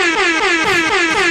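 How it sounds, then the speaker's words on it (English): A low, blaring air horn sound effect pulses several times in rapid succession, loud and close with a slightly falling pitch on each blast. "That's a low air horn."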